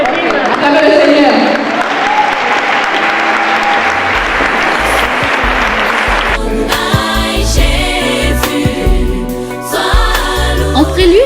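A church crowd at a prophetic night service applauds and cheers loudly and steadily, with voices shouting through the clapping. Deep music and organ-like tones join partway through.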